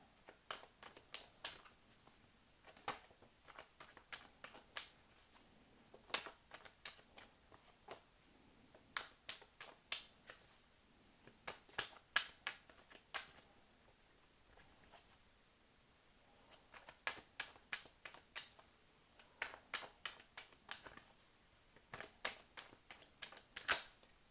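Tarot cards being shuffled and drawn, heard as quiet clusters of crisp snapping and flicking riffles repeating in bursts, with soft pauses between.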